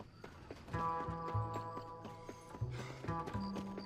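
Horse hooves clop and a horse whinnies in the Xbox 360 game Red Dead Redemption. The sounds are faint and sit among other game effects and a tonal musical drone, with no speech.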